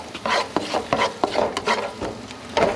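Garlic frying in oil in a pan, heard as a steady sizzle broken by repeated scrapes and clinks of a utensil stirring against metal, fairly close and continuous, with no voices.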